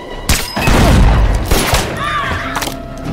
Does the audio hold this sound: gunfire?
yes